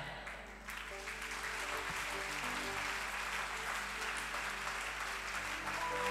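A church congregation at a worship service applauds and calls out in acclamation, a dense, steady wash of clapping and voices held evenly from start to finish, with music underneath.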